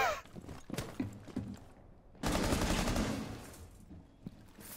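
Gunfire in the tactical shooter Rainbow Six Siege, with scattered shots in the first two seconds followed by a louder, sustained burst of fire. It sounds close and fairly loud, and no one talks over it.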